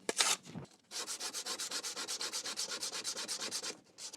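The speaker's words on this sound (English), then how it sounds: "I'm slowly making my way with a 150 grit sandpaper on a flat stick so that I'm getting as flat as even a surface as possible" A folding knife is worked with 150 grit sandpaper wrapped on a flat stick, giving a brisk rhythmic back-and-forth rasp of about twenty even strokes after a brief first pass, close and alone.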